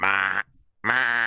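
A human voice imitates a cat's strange, deep, throaty meow, making two drawn-out, buzzing calls separated by a short silence.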